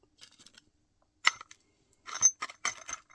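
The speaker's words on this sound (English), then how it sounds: "Smash the glass." Glass is smashed for a ritual spell, giving a single sharp crack followed by a cluster of bright tinkling shards and clinks, close and fairly quiet in a still room.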